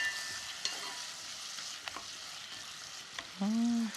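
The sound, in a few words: stir-frying radish with abalone in a pot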